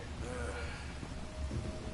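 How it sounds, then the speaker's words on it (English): Steady rain hisses with a low thunder rumble in the Red Dead Redemption 2 game world, faint and continuous, with possible voices in the background. "You were right about the damn rain."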